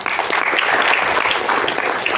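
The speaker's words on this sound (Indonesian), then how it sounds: "Tepuk tangan dulu Bapak Ibu." An audience of parents and officials at the opening of a city-level student education olympiad in Padang applauds loudly, a close, dense wash of clapping that holds steady throughout.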